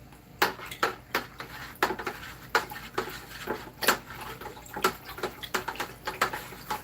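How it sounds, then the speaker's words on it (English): A plastic spoon stirs liquid hydroponic nutrient solution in a container, producing a quiet series of irregular clicks, taps and light knocks against the sides with soft watery swishing between them. "Make sure you take this plastic spoon and stir everything up."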